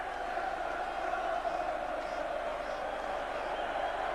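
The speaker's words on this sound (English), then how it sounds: "from the rapturous applause of the Liverpool fans, we're into the next round of the Cup" Liverpool supporters at Villa Park after an FA Cup fourth-round win in 1988, a broad, distant wash of applause and cheering held steady throughout, with a voice faintly over the crowd.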